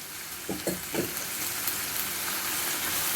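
Chili flakes with a blended paste of garlic, ginger and onion dropped into hot oil, a close, continuous sizzle with a few brief bursts of crackle near the start, no voices.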